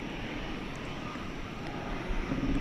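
A plane at DFW Airport at night gives a steady, fairly loud broadband jet roar that holds throughout and swells slightly near the end, with no talk over it.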